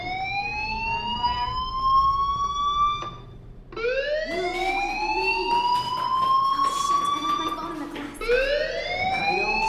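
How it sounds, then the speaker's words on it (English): A fire alarm in the video game Life is Strange wails in three loud rising sweeps, each climbing in pitch and then restarting, with a short gap between blasts. "Hey, do you hear that fire alarm?"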